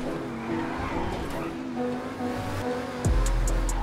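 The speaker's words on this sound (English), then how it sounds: "Wow, this car is fast." A fast car in GTA 5 drives at top speed, engine humming steadily before a sudden heavy thump near the end, followed by low rumbling; a faint voice may sit underneath.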